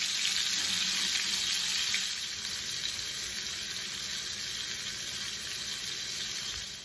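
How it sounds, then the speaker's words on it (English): Meat sizzles steadily in a pan over medium heat, a dense continuous frying hiss that eases slightly after the first couple of seconds and carries on with no talking. "As our meat is cooking,"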